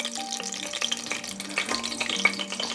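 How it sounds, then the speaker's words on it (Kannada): Ingredients for Karnataka-style tomato rice fry in a hot pan with a steady, fairly soft sizzle and crackle, spattering lightly throughout. "ಫ್ರೈ ಮಾಡ್ಕೊಳ್ಳೋಣ"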